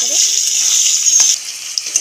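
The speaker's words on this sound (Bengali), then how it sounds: "আলুটাকেও ভেজে নেব লাল লাল করে।" Salted, turmeric-dusted potatoes frying in hot oil until reddish: an even close hiss of sizzling that drops a little in level halfway through, with a few faint clicks near the end and no voices.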